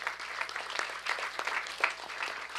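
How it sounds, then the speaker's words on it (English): A crowd applauds at the inaugural function of a career conclave, a faint, steady wash of clapping that lasts throughout without pause. "Give him a big round of applause."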